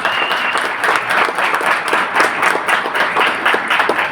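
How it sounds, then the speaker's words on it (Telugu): A meeting audience applauds, loud dense clapping sustained steadily throughout with no talk over it. "ఒకసారి బిగ్ రౌండ్ ఆఫ్ అప్లాజ్ తీసుకోండి."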